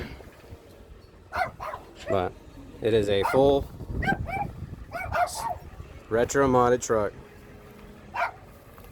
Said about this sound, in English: Sorry about the dogs again.